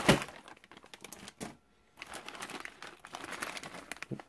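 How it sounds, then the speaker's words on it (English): Plastic parts bag from an AE Apex touring car RC kit being torn open and handled, a loud crinkling rip at the start followed by steady close rustling and crackling with a brief pause midway. "let's open up the big main bag and take a look and see what's inside"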